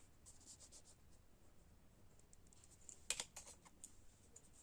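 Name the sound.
writing on paper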